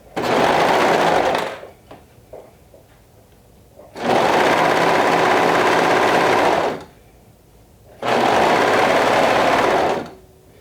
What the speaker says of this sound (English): you'll be stretching the neck binding as you sew, without stretching the front of the bodice.